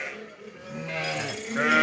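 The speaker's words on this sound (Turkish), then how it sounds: "Sür koyunu sür koyunu ha." Sheep bleat in quavering, drawn-out calls, fairly close and overlapping in a sheep barn, with a faint voice in the background.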